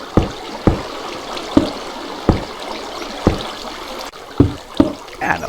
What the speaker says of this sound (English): of course I fall right back in the water